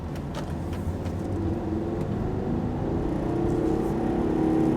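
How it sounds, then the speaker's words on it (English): Steady low rumble of a 2010 Volvo XC60 five-cylinder diesel engine, heard from inside the SUV, with a continuous smooth drone that builds slightly in loudness over the last seconds. "It's a 5-cylinder, so it sounds also very good for being a diesel. It has a rumble."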